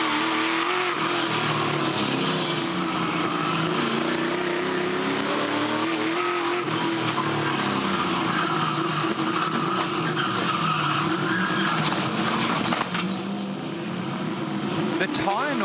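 A Trans Am race car understeering through a corner at the Adelaide street circuit, tyres squealing continuously over a loud droning engine for about fifteen seconds, with commentators talking over it.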